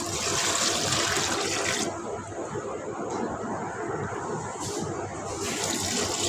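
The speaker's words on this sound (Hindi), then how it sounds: "उसके अंदर हम पानी ऐड करेंगे।" Water pours steadily into a pressure cooker holding beef, a rushing splash that changes tone midway as the level rises, close and continuous with no talking.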